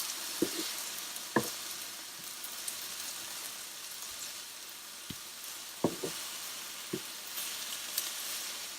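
Smash burger patties sizzle steadily on a hot griddle, a soft continuous hiss broken by a few sharp clicks and taps of a spatula, with no talking.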